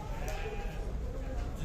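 Sheep and lambs bleat at a livestock market in Sokuluk, faint and somewhat distant amid crowd murmur and low background noise.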